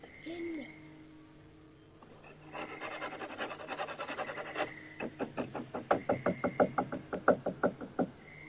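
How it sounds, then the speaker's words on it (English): Soft scratching and rubbing give way to a series of sharp knocks, growing louder and more rhythmic, with a faint whistling tone early on. "Some scratching and knocking sounds can be heard"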